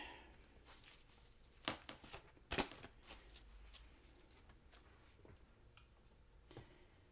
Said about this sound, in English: I'm going to shuffle you an Angel Oracle card